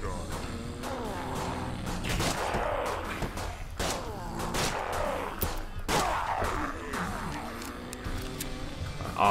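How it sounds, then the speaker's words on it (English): Shotgun blasts in the video game Dead Sky, several sharp booming shots at irregular intervals amid a dense clatter of other gunfire and game effects, with no one speaking over it. "Shotgun."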